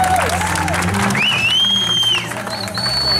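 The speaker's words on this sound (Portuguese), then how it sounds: "Uma salva de palmas pro casal," A crowd claps and cheers for a couple, with whistles and whoops rising over the steady applause.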